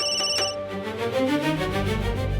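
A phone rings with a melodic electronic ringtone, repeating tones sounding close and fairly loud, with no one talking.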